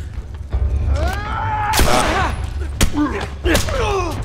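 Gunfire in The Last of Us Remastered: scattered shots and impacts crack out amid a busy combat mix, with shouting voices and someone talking over the action.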